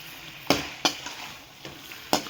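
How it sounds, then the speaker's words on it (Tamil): Chicken chintamani doused with lemon juice and stirred in a pan: four separate, sharp scraping strokes over a faint background sizzle, quiet and close. "லெமன் ஜூஸ் வந்து சிக்கன் எல்லா இடத்துலையும் படுற மாதிரி ஒன்றா சேர்த்து மிக்ஸ் பண்ணிவிடுங்க"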